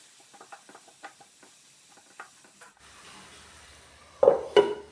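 Spice powder and grated coconut stirred in a pan for Kerala thoran, with soft scattered scrapes and taps of a spoon, a low sizzle rising, then two louder clanks of the utensil against the pan near the end.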